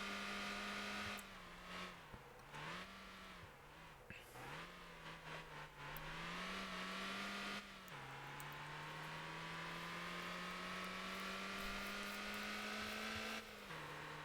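Race car engine in the driving game Motor Town during a race, a steady high droning whine that rises and falls with the gear shifts, loud and continuous throughout with no talking.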